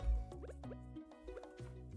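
Crops are watered in the farming video game Stardew Valley: a short series of soft watery plops and drips from a watering can, spaced over a few seconds against background game music.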